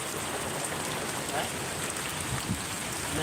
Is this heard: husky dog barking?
no